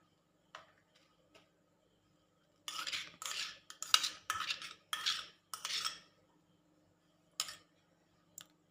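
Mango pulp is stirred into boiled, reduced milk in a pot for homemade mango ice cream, with a spoon scraping and clinking against the metal in short bursts, close and clear, separated by quiet pauses.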